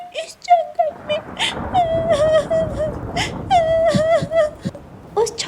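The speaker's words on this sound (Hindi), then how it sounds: "उस छोटे बच्चे की रोने की आवाज जंगल में दूर दूर तक जा रही थी।" A baby parrot cries in a jungle cartoon: a voiced, high, wavering wailing sob that repeats in several drawn-out bursts with short gasps between, close and fairly loud.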